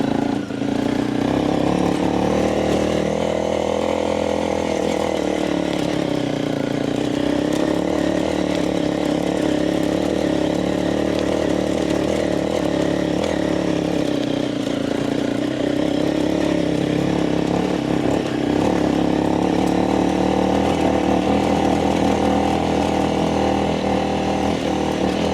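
Honda motorcycle climbing a dirt trail, engine droning loud and close throughout with the pitch rising and falling as throttle changes, no speech.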